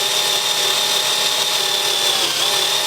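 A 7.9mm drill bit opens out a hole that was already enlarged to 7.8mm, taking off only a sliver of metal. It gives a loud, steady whine with an even tone held the whole time.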